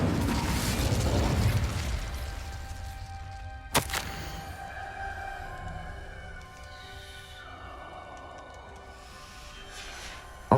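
Incendio fire spell cast in the video game Hogwarts Legacy, a sharp burst with a whooshing, roaring flame that trails off into a lingering rumble, followed by softer tonal game ambience.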